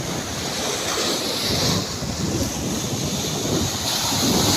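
Heavy ocean surf from a typhoon roars continuously, big waves crashing with strong wind buffeting the microphone; no voices.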